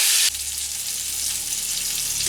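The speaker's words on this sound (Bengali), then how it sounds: "দিয়ে পটলটা অনেক ভেজে নেব" Pointed gourd sizzles steadily in hot oil in a home kitchen, a loud broadband hiss at first that drops to a softer, continuous frying crackle for the rest.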